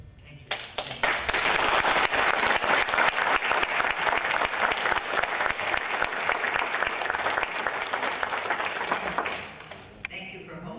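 Audience at a Yonkers mayoral debate applauding steadily for about nine seconds, a dense wash of clapping that fades out near the end, with a few faint voices underneath.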